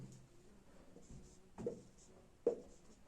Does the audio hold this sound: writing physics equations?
yes